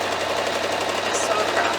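A sewing machine runs steadily, stitching across quilted stocking fabric with a continuous fast mechanical whir and rattle, close and fairly loud throughout.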